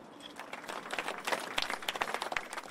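Community crowd applauding outdoors after a minute's silence for Grenfell Tower fire victims, a dense patter of many hands clapping at moderate distance that swells toward the end.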